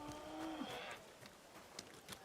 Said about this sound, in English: you just let a cow in.